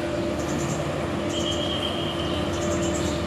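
A train rolls past on a working railroad in Thailand, a steady loud rumble of wheels on track with a faint sustained squeal and tonal hum, no voices.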